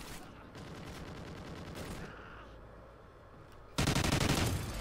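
A minigun fires in a Gun Game video game match, giving a dense, continuous rattle of rapid shots that eases briefly, then returns in a louder sustained burst.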